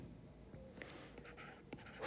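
Faint scratching of a marker or chalk writing on a board, a series of short soft strokes under a quiet room tone.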